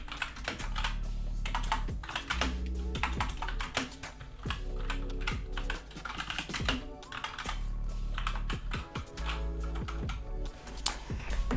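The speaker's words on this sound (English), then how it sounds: "All I have to do is type sudo" Rapid typing on a computer keyboard while entering a command in a Linux Mint terminal, a dense, steady clatter of close key presses with brief pauses, no voices.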